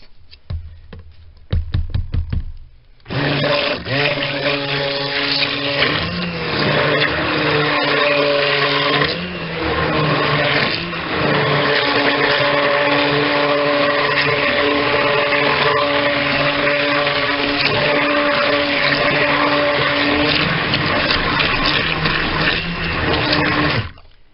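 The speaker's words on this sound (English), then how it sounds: "We'll stick blend that to get that all mixed up and incorporated so there's no lumps." A stick blender whirs steadily through cold-process soap batter for ginger-scented soap, after a few brief stuttering pulses at the start, then runs loud and continuous with a strong motor hum and shifting tone as it mixes.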